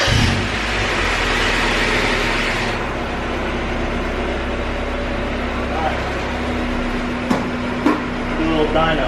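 A Mazda Miata engine runs in a garage, a steady mid-pitched hum with a constant drone, loud and close, with a few short blips near the end.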